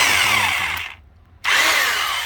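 A power drill whines loudly up close, cuts out briefly for about half a second, then spins back up to full speed.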